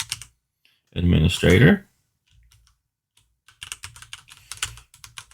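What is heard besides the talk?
typing an administrator password on a keyboard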